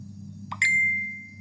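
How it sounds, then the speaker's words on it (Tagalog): Cellphone message notification tone, a quick plop followed by a bright ringing ding that fades slowly over a low steady background hum, heard once with no speech. "Tunog ng tunog yung cellphone."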